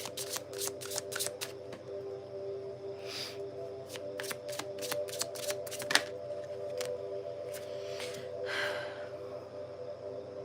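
Tarot cards are handled and shuffled for a reading in a quiet room: quick bursts of riffling card flicks come in clusters, with a couple of softer breathy rustles between them, close and moderately quiet.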